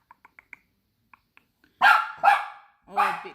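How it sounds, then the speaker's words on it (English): A dog gives three loud, close barks in a row, after a few faint, high ticking sounds. "Oh, big tough dog."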